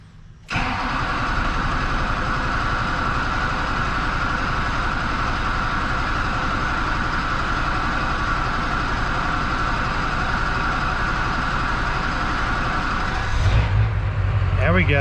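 Duramax diesel truck engine with an AIRDOG lift pump running loudly and steadily up close after starting, a continuous rumbling drone that shifts near the end.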